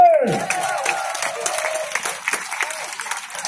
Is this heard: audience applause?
yes